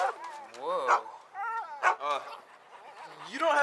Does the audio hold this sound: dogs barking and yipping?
yes